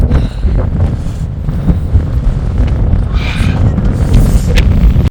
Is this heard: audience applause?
no